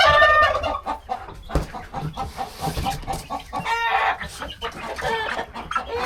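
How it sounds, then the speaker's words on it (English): Many chickens clucking and chirping together close by, a busy, continuous flock chatter with occasional louder calls. "That's a lot of chickens."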